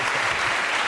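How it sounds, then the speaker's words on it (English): A studio audience on a British comedy panel show claps in steady, dense applause that fills the whole second at an even loudness, with no voices over it. "Al Murray, give him a round of applause"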